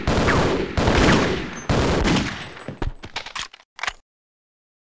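Bursts of gunfire from the video game Half-Life: Opposing Force, loud sustained volleys in the first two seconds giving way to scattered shorter shots before cutting to silence.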